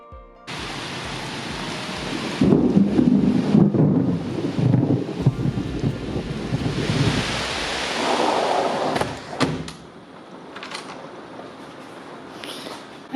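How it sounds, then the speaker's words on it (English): A thunderstorm in the Adirondacks, with driving rain and gusting wind in a steady loud roar, a deep rumble of thunder rolling through the middle, then easing to lighter rain and scattered knocks. "I had to shut the door because the wind is cranking and the rain started to come in."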